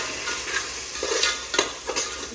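Palak and soya pulao masala fries and gets stirred in a pan, with a steady sizzle under scraping spoon strokes that land in a few distinct bursts, close and moderately loud, with no talking.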